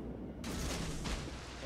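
A warship's guns fire shells in a naval battle game: a sudden sharp broadband blast, then a second report about half a second later, both fairly quiet and set against a low steady rumble.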